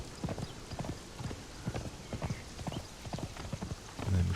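Steady clip-clop of horse hooves during a ride in the Conan Exiles video game, a quick rhythmic gait with close, even footfalls and no talk.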